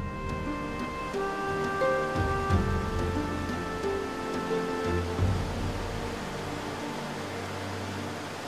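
Water flowing at the source of the Jordan River at Banias in northern Israel, a steady wash of rushing water throughout, with tonal music layered over the first five seconds and then fading out.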